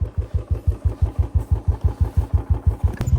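A motorbike engine revs in a steady, pulsing rhythm close by as it sets off on a mountain road between Lamjung Ghalegau and Gorkha Siranadada, its throb loud and regular throughout, with no talking.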